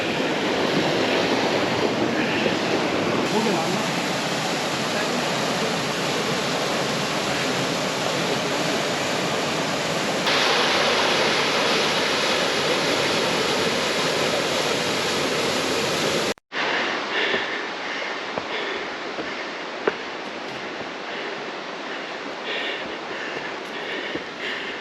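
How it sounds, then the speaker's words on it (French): Biryong Falls, a 16-metre waterfall in Seoraksan National Park, South Korea, gives a constant, loud rushing roar heard up close, a broadband wash that shifts in tone partway through as the position changes. "Arrivé à la deuxième cascade, la Biryong Falls."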